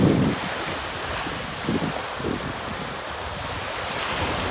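Gentle waves wash over a sand spit at a Maldives resort beach, a soft continuous wash with a few surges, heard alongside steady wind buffeting the microphone and no talking.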